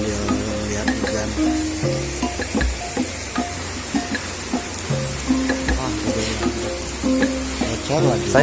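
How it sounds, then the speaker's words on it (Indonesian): Heavy rain falls during a flood on a fishing trip, a steady dense hiss with pattering drips from a leaking shelter, and voices are heard over it. "Saya di sini aja sambil lihat hujan."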